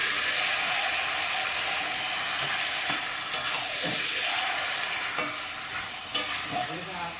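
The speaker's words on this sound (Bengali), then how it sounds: "এবারে ম্যারিনেট করা মাংসটা দিয়ে দেবো।" Marinated goat meat hits hot spiced masala in a pan and sizzles loudly and steadily, with a few sharp clanks and scraping stirs of a spoon against the pan near the end.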